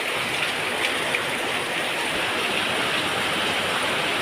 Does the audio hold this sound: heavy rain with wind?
yes